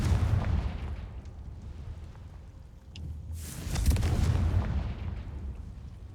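Confringo blasting spells cast in Hogwarts Legacy: rumbling booms over a low roaring background, the loudest burst landing midway and then trailing into a sustained crackling rumble, with no voices.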